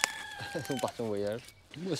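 Chickens cluck and a rooster-like call sounds nearby outdoors, interleaved with people speaking French over them.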